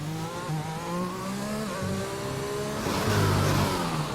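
An F1 race car engine in the F1 2021 video game at the Bahrain Grand Prix revs loudly and near, its pitch climbing through gears, then a rougher surge of noise as the car spins.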